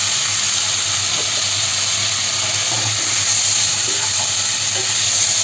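Brinjal pieces sizzling in frying masala in a pan make a steady, loud, continuous hiss with small crackles scattered through it, and no voices.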